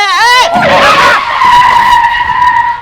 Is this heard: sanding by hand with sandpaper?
no